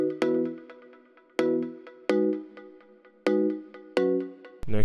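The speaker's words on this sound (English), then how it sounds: "let's get some plucks from Serum." Synth plucks from the Serum synthesizer strike as five spaced chords, each with a sharp attack and a quick rippling decay, close and alone in an EDM production, with a short burst at the end.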